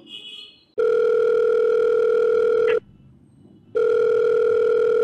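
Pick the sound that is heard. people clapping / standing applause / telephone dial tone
telephone dial tone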